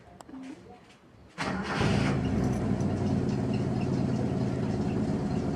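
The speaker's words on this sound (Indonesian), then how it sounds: "Turn the ignition key into start position. Feel the engine start up very easily." A car engine is started with the ignition key: a brief cranking whir, then the engine catches and settles into a loud, steady idle rumble close by.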